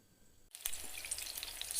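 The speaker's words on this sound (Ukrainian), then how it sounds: "Смажимо котлети на середньому вогні." After a brief near-silence, rabbit meat patties hit a hot pan over medium heat and a loud, steady sizzle of frying follows, crackling and popping continuously.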